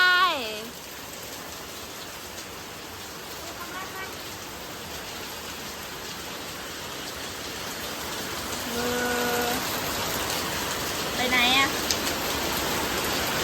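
Steady, heavy rain pours in a continuous hiss, with a few brief voices speaking now and then over it.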